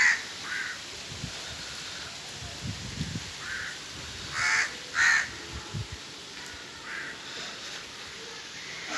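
Several crows cawing at a distance in short, scattered calls over a quiet outdoor background.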